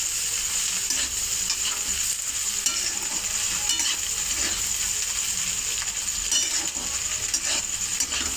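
Chow mein being stirred in a pan over the heat, a steady bright sizzle with scraping and clinking of the utensil against the pan throughout, no voices.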